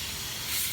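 A garden hose sprays water in a brief burst of steady, close hiss while parts of a Summer Waves Elite above-ground pool are cleaned.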